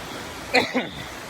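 Steady, dense hiss of heavy rain from Typhoon Leon pouring over a farm throughout, with a brief voice exclaiming in the middle.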